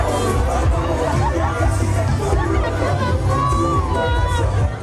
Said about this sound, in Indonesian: Momen berebut kaos seperti ini terus terjadi sepanjang jalan protokol hingga alun-alun Purwodadi sejauh 1 km lebih.